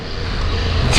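A 2022 Triumph Tiger Rally Pro motorcycle is ridden at speed, with a loud, steady engine roar blended with rushing wind noise over one second, swelling slightly at the end.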